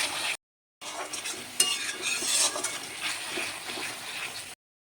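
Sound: mutton curry with potatoes sautéed with water in a pan

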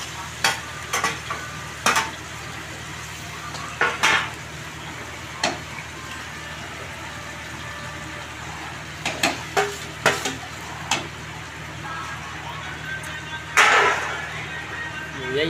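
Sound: arbi (colocasia) leaves frying with garlic in oil

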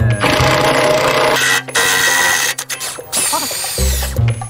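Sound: nut gun removing a corroded bolt

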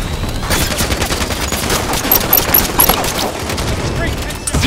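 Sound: gunfire in video game Halo 5 Guardians

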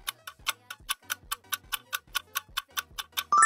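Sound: clock ticking

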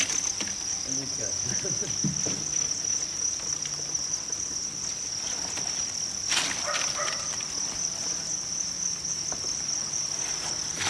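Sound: crickets chirping on a cricket farm

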